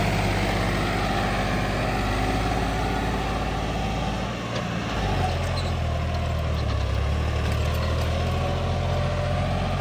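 A Powertrac tractor engine running in first gear, a steady, loud diesel drone with a deep low rumble that shifts slightly in pitch midway, with no pauses.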